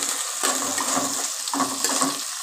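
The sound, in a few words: frying chopped onion and chilli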